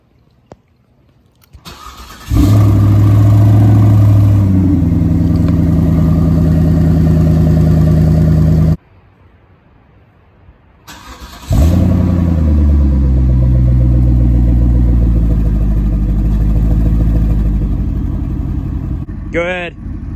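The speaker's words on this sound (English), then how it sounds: "let's get some exhaust videos going" A Cadillac STS with a tuned car's aftermarket exhaust starts up and revs loudly in two long, steady pulls, separated by a short quiet pause, with a faint voice in the gap.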